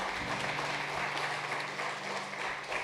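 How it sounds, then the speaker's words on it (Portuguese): A church congregation applauds during a family worship service, a steady wash of clapping from many hands that fills the room, with a faint voice briefly underneath. "Vamos dar uma salva de palmas por isso."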